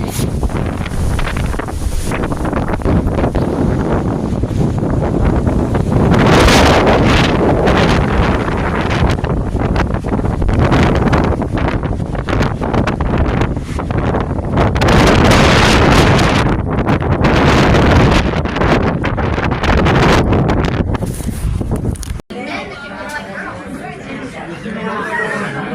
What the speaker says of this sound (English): Hear the wind? It's picking up.